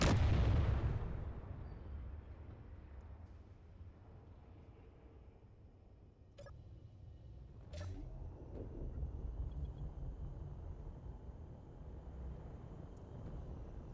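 Ship guns in the game Space Engineers fire a heavy booming blast at the start, decaying into a low rumbling drone with a couple of sharp cracks later, fairly faint overall.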